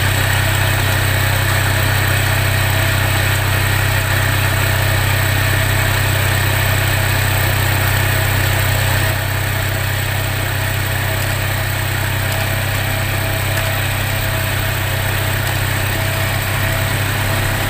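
An engine idles steadily while warming up, a loud, continuous low hum with a constant drone and no clear rise in pitch, running alone without talk for nearly eighteen seconds.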